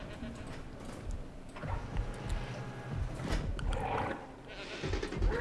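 A goat bleats in the dinosaur park game Jurassic World Evolution, set on a mountain top, amid a busy mix of game sounds and clatter.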